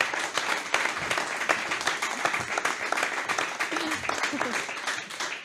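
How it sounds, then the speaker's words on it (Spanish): Applause from an audience at an interview with two sister taekwondo champions, steady clapping through the clip with laughter and a few voices mixed in underneath. "un aplauso para ella"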